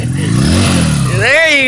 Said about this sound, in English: Go as fast as you can right now. Just rev it.